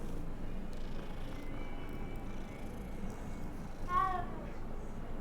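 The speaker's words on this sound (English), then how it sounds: "Oh, kitty!" A cat meows once in the video game Hogwarts Legacy, a short tonal cry partway through, set against a steady low game ambience with soft background tones.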